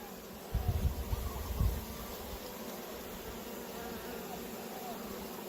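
Honeybees in a hive at a honeybee sanctuary hum in a steady, soft drone under a broad hiss, with a few low thumps near the start.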